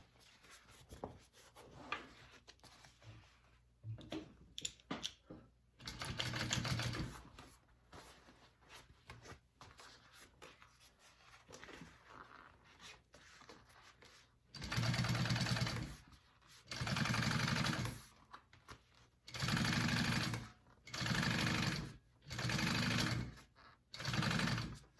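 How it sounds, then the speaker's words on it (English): Sewing machine top stitching a backpack in short loud bursts, one near 6 seconds and then five or so regular runs with brief pauses between them, after a stretch of quiet handling noise. "I'm going to top stitch that"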